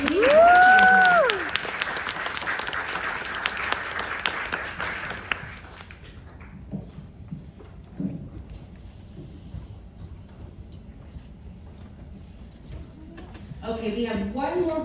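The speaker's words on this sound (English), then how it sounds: "one more hand of applause for Dave" Applause from an audience at a summer showcase presentation night, a loud burst of clapping for the first five seconds that then fades away, leaving quiet room noise with faint voices near the end.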